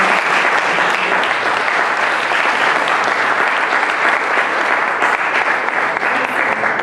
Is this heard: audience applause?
yes